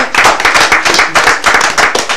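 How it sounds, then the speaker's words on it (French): A crowd applauds loudly and steadily, many hands clapping together in a dense, continuous patter. "Merci d'applaudir une fois encore pour Kadra."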